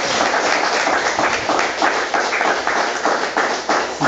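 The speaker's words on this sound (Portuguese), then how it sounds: "Palmas para o Senhor Jesus." Church congregation clapping together in a steady, loud rhythmic patter of many hands, filling the space without pause.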